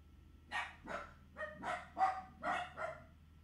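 Several dogs barking in a quick series of about seven sharp barks over a few seconds, fairly close and clear, with no talk over them.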